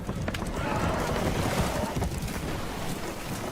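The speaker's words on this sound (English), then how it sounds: "Horses are spooked, and we're taking on water." Spooked horses aboard a damaged boat taking on water in the video game Red Dead Redemption 2 neigh and stamp their hooves amid a windy, rushing background, fairly soft overall.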